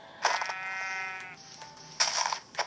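A sheep in the Minecraft video game gives a couple of short bleats, clear and close, separated by a brief pause, with no talking.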